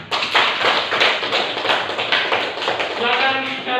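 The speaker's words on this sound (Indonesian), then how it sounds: "kita berikan tepuk tangan untuk kelompok 3" A classroom group claps for a student team after its presentation, a dense, steady patter of many hands that stays loud and close for the whole stretch.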